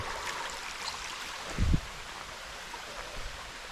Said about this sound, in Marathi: इकडे बघू सगळं पाणी वाहत आहे इथे तेव्हा मस्त पाणी वाहतं